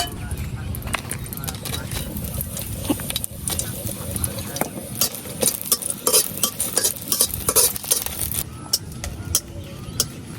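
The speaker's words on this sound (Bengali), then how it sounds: "অল্প একটু তেলে মরিচ গুলা সামান্য ভাজলে আমার।" Dried red chillies fry in a little oil in a wok, giving a steady crackling sizzle with faint stirring scrapes. A voice talks over it now and then.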